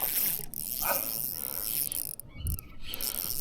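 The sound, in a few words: fishing reel drag clicking as fish pulls line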